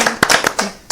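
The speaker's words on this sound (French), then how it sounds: "On a envie d'applaudir" A few loud, close handclaps in a podcast studio celebrating a 100th episode, roughly four or five sharp claps spaced unevenly within a second.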